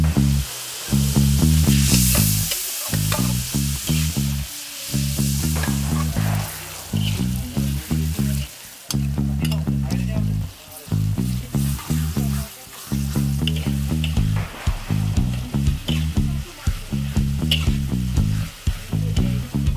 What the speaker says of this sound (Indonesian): Setelah komplit bumbu dan bahannya, bisa langsung ditumis yo.